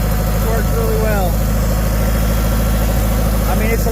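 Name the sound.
International Harvester 464 tractor engine running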